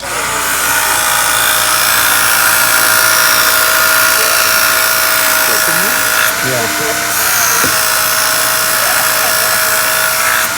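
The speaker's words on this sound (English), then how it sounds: "I'm going to sharpen the knife to make sure it's super sharp" An electric sharpener grinds a butcher's knife to a 20-degree angle with a steady, loud, high motor whine, with a few brief scraping strokes against the blade and talk over it.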